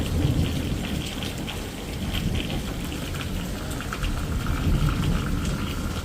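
Heavy rain pours down steadily with thunder rolling underneath, a dense, constant wash of rain noise close by and no voices.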